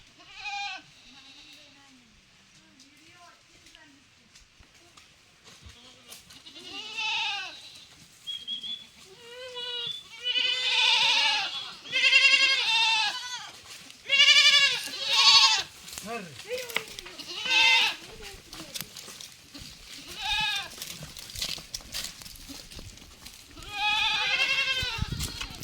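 Goats in a tribal village in the Manyam hills of Seethampeta bleat repeatedly, with several animals calling near and far in uneven bursts that grow busier over time, while people talk now and then.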